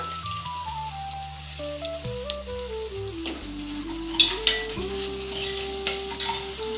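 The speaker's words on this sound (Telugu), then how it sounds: "కొంచెం ఇంగు వేసుకుంటున్నాను." Asafoetida tempering in hot oil, a steady close sizzle and crackle with occasional clinks of a pot, heard under a backing of melodic music.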